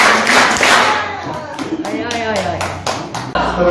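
Catholic congregation at an Easter Mass led by a bishop, clapping in a scattered, uneven patter mixed with voices and a few thumps, fairly close.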